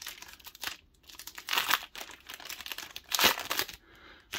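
Crinkly tearing of a 2022 Mosaic football card pack wrapper, close and quiet, in a few short bursts of crumpling plastic with brief pauses between.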